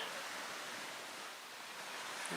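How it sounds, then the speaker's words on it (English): Small waves roll gently onto the shore of a calm Lake Michigan near the Nordhouse Dunes, a steady soft wash of surf with no voices. "That lake is so calm today. Just some small rolling waves coming in."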